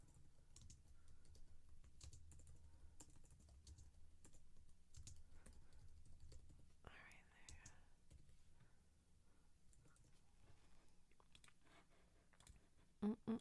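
Soft, close computer keyboard typing in a quiet room, irregular bursts of light clicks with brief pauses, faint and intimate, ending with a couple of louder knocks.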